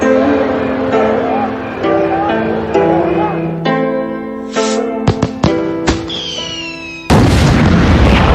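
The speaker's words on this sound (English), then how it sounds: "The force of the explosion sent Mushu and Kriki flying through the air." A loud, sudden boom bursts in at the end, a broad roar cutting over a dramatic orchestral score with sharp impacts just before it.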